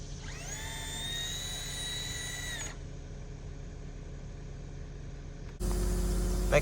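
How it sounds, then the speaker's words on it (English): Power driver sinking big log screws into a log cabin rafter, a high whine that steadies for a couple of seconds and then cuts off, heard at a moderate distance, followed by a louder burst of rumbling noise. "getting it screwed in with big log screws."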